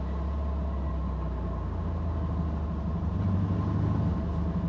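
A Porsche 356 Speedster's engine runs steadily, a continuous low droning rumble with an even tone and no voices.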